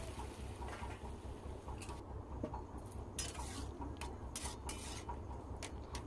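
Curry being stirred into hot tempering in a pan for a Bengali brinjal and potato dish, with steady scraping and clinking of a utensil against the pan over a low continuous hiss.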